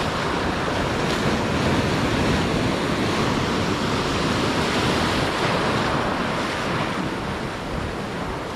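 Sea waves at high tide near an island, a loud, continuous rushing surf with wind noise and no clear breaks.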